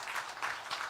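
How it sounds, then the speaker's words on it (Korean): Applause from a church congregation during a Sunday worship service, a steady wash of clapping that swells in three waves over a short burst. "우리 큰 박수 부탁드립니다."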